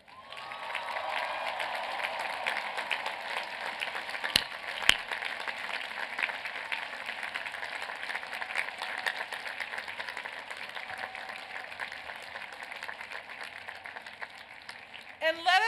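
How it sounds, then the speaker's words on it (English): Sustained applause from a large commencement audience at a university graduation ceremony, graduates clapping for their parents; a dense, steady wash of clapping fills the whole stretch with a couple of sharper bursts, no voices over it. "Graduates, join me in applauding the ultimate heroes,"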